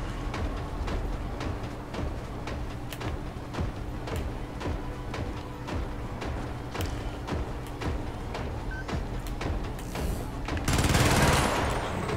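Rapid gunfire in the video game Helldivers: Democracy Strikes Back crackles as a steady run of sharp repeated shots over a rumbling game background, ending in a brief louder burst of noise.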